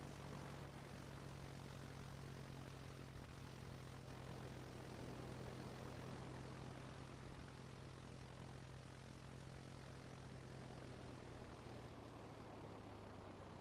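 Three aircraft circling at a New England town airshow, a faint steady propeller drone with a low engine hum that holds evenly throughout, distant and unbroken, with no voices.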